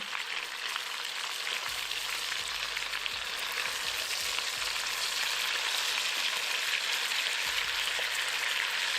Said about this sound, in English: I'm gonna allow these pieces of beef to sear for 4 minutes without moving anything.